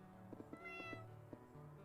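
A cat meows in the Cat Cafe Manager video game, a short series of soft quick chirping meows over steady background game music.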